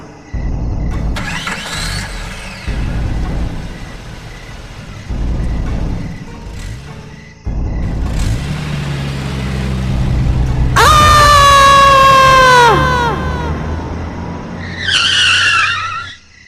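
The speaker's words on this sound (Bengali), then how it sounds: "এই কথা ভেবে আমি গাড়ি চালাতে শুরু করলাম।" Cartoon sound effect of a car starting, engine bursts revving in several pulses, then a long loud tire screech skidding to a stop, ending with a short squeal.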